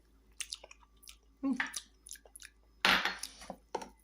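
Small mouthfuls of a spiced bun egg mixture, tasted from a spoon, give soft chewing and smacking noises in short bursts, close and moderately quiet, with brief clinks between them.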